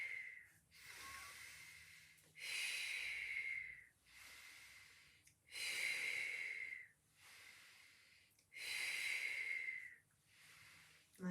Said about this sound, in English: I'm breathing in, breathing out, breathing in,